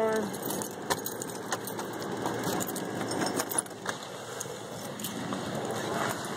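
Keys jingle and clink steadily while a door is being unlocked, a continuous metallic rattle with a few sharper clicks, fairly close, over a low background hum.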